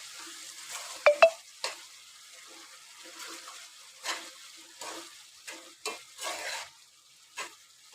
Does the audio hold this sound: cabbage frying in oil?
yes